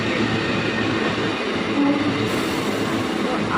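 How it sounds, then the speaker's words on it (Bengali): A passing up train at a railway station gives a steady, loud rumble of rolling carriages across the whole stretch, with no voices over it. "যাচ্ছে আপ ট্রেন আর আমি যাবো ডাউন ট্রেন।"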